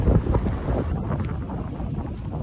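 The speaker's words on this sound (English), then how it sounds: "So windy out today." Strong outdoor wind buffeting the microphone in rough gusts, loudest at first and then settling into a steady roar, with no voices.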